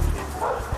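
A police sniffer dog with West Yorkshire Police gives a single short, loud bark, close by and alone.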